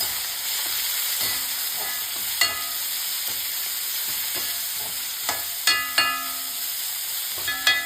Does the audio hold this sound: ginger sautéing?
yes